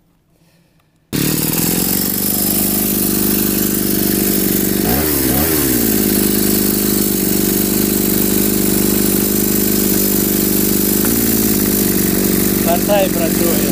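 A two-stroke twin-cylinder brush cutter starts up and runs loud and close, holding a steady buzzing drone with a brief rev partway through.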